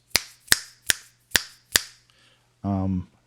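Five sharp finger snaps in a steady rhythm, close and crisp, followed by a brief hum.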